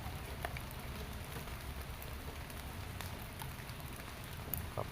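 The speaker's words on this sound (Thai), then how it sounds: "ฝนมันตกหนักเหลือเกิน" Heavy rain pours steadily at the Ping River, a dense, even hiss of drops on water and surfaces, continuous and fairly faint with a few brief patters, no voices.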